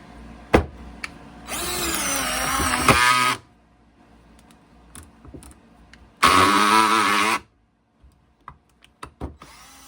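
A DeWalt DCD710 cordless drill in drill mode whirs in two bursts of a few seconds each, separated by quiet, with small clicks and knocks around them.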